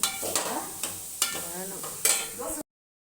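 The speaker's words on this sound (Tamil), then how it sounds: "இந்த அடுப்பை தூக்கி போட்டு நான் தோசை ஊற்றுறேன்" Dosa batter poured and cooking on a griddle, a close, steady sizzle broken by a few sharp scraping or tapping strikes at regular intervals, ending suddenly in silence.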